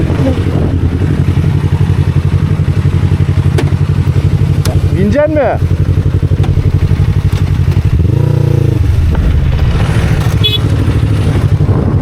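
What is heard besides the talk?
motorcycle with new exhaust revving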